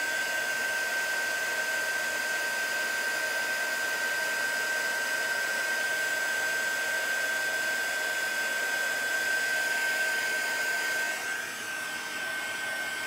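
A steady, loud whooshing blast of hot air from a small heat embossing tool, heating a curling card from underneath, runs without a break, easing off slightly near the end.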